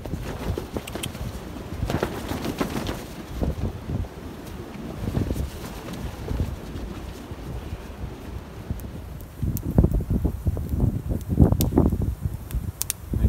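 Gusty wind buffets the microphone at a stormy hammock campsite beside a campfire, a steady broadband roar with stronger bursts toward the end.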